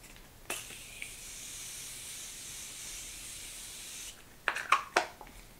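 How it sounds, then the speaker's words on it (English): A steady hiss of a fine aerosol makeup setting spray (Morphe) lasting about three and a half seconds, close by, followed by a few sharp clicks and rustles. "that is a nice continuous spray"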